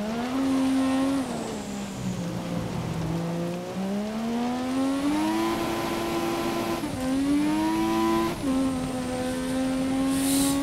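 A Formula 1 race car at Spa in the F1 2017 video game drives with a continuous high engine whine, rising and falling through gear shifts, steady and close with no talking.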